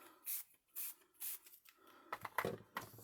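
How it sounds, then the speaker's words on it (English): Ink spray from a bottle misted onto a 6x6 art journal page, four short hissing bursts in a row, then rustling and handling sounds close to the microphone. "But it's got to go somewhere for me to spray it."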